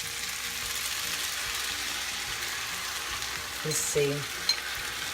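Sauce is tossed into chicken lo mein sizzling in a pan, a steady frying hiss with stirring, then a louder burst of sizzle and clatter near the end; a brief spoken remark sits under the cooking.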